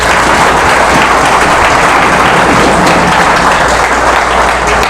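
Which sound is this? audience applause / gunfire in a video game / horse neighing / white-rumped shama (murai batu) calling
audience applause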